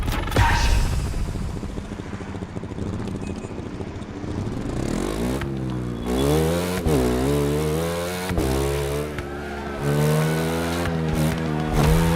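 Motorcycle engine racing in the video game The Crew Motorfest, a loud, continuous buzzing whine that climbs in pitch through repeated gear shifts, with brief drops between surges.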